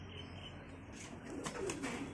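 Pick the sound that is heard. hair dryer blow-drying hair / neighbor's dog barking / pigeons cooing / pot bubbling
pigeons cooing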